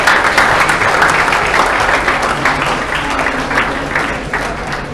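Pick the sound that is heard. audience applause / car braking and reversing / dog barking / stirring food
audience applause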